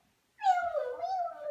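A child imitates a cat with a single drawn-out meow, close and clear in an otherwise quiet room.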